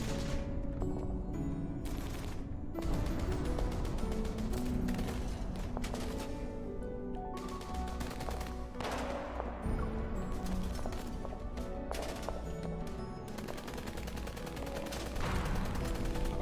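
Gunfire in a video game, heard as steady, dense, continuous bursts of shots over a sustained mechanical background, fairly loud and unbroken throughout, with no talk.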